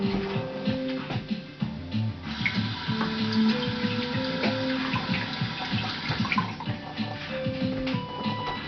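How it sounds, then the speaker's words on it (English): Squash being washed under a running kitchen tap: steady splashing water close by, with small knocks and rubbing from handling the vegetable in the stream. "So here, I will wash part of this squash."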